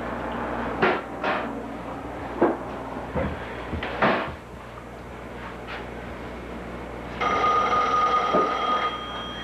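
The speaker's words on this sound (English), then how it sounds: "phone" An old landline telephone rings in a home kitchen, recorded on a mid-1980s cassette tape, a single electronic ring burst near the end after scattered clunks and knocks, fairly faint under tape hiss.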